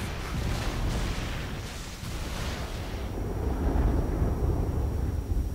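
The Bottle Ship exploding in Metroid Other M, a heavy, sustained rumbling blast that roars on and swells louder toward the end, with no voices over it.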